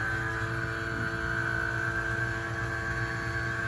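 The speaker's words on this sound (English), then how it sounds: "get the vacuum pump started" A vacuum pump runs steadily for degassing polyurethane resin for casting circuit boards, giving a constant, loud mechanical drone with a fixed whine and no breaks.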